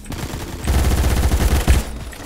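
Automatic gunfire in the video game Phantom Forces: a loud, rapid burst of shots fires in a dense rhythm for about a second and a half, then cuts off.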